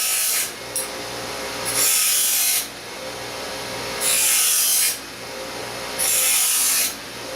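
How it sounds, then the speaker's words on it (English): A grinder makes rough cuts on sharp steel edges during workbench construction. Several loud, harsh grinding bursts of about a second each come with short pauses between them, over a low steady motor hum. "We'll just make some real rough cut grinds real quick."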